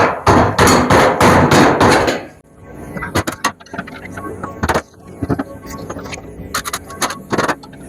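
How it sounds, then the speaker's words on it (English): A screwdriver prying at small plastic tabs on a Dart: a run of rapid clicks and snaps up close, then scattered sharp taps and pops spread out over the rest. "you take your screwdriver on these little tabs"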